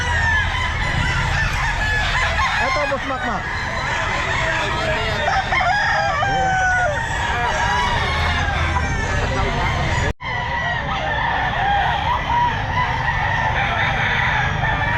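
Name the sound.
chickens and roosters at a pet market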